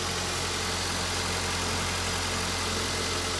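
A 2001-2005 Honda Civic engine idles steadily after an alternator replacement, a constant loud low hum and drone with no change in pitch and no talking.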